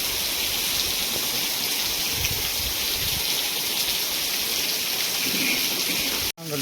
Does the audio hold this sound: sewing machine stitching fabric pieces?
no